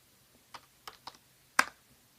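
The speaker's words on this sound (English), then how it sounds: "So I'm typing into the computer there" Keys are struck on a computer keyboard while setting up an AIY voice kit: about five separate, crisp clicks come at an uneven pace, with the last the loudest, in an otherwise quiet room.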